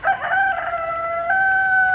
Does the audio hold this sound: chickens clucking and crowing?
yes